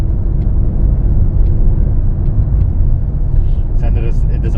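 A Stage 1 tuned BMW X5M's engine drones loud and steady while holding a gear during driving, a constant low rumble filling the cabin, with people talking over it.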